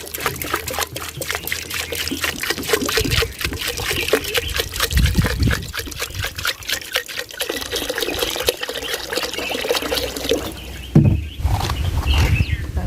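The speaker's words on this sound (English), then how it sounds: "And now just add water." Water poured into a cooking pot over cow intestines, a steady splashing trickle that runs close and continuous for several seconds, with a brief louder slosh near the end.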